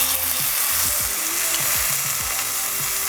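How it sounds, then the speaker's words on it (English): Loud, steady sizzling of chicken searing in a hot pan, a dense crackling hiss that runs throughout with no talking. "I wanna get a bit of a sear on this chicken before we stew it"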